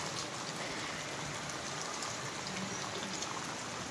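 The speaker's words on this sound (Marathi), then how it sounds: "इतका सुंदर सुंदर पाऊस पडतोय ना, एक नंबर." Heavy monsoon rain pours down in Konkan beside a roadside house, a loud, steady, dense hiss of falling water and drops on surfaces that continues without a break.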